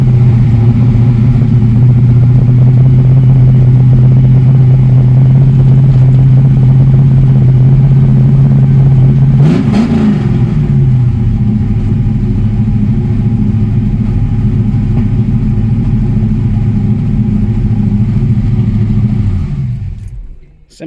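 A Ford Mustang Fox body V8, now running on a carburetor, idles steadily with a strong low drone. Partway through there is a short burst and wobble in the note, then the idle settles back, fades and cuts off at the end.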